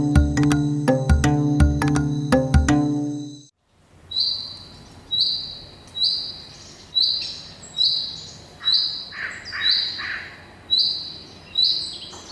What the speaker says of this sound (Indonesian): saya berhasil berjumpa dengan Otus manadensis atau celepuk Sulawesi yang merupakan spesies burung hantu